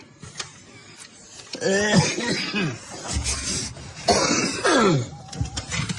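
A few throat-clearing coughs mixed with short vocal sounds, close and fairly loud, with brief pauses between bursts.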